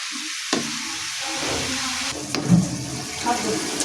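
Malabar spinach being stirred as it fries in a pan, giving a steady soft sizzle with a few brief clatters of the utensil against the pan, close and moderately loud.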